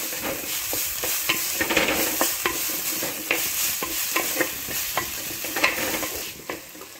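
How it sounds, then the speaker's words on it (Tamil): Onion and boiled banana flower stem frying in a pan, stirred with a steady rhythm of repeated scraping strokes over a constant close sizzle. "இப்போது இந்த வெங்காயம் வதங்கணும், வேக வச்ச வாழைப்பூ தண்டை ஆட் பண்ணிக்கங்க. இப்போது இது கூட ஃப்ரை பண்ணிக்கங்க."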